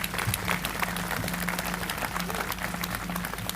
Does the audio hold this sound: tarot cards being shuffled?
no